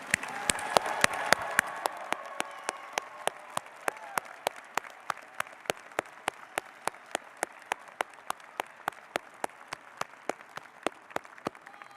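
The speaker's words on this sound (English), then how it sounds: "How about a round of applause for our graduates?" Graduates of the Debbie and Jerry Ivy College of Business fall 2025 class receive applause at a convocation ceremony; dense clapping fades into a steady rhythm of single sharp claps ringing out in a large hall.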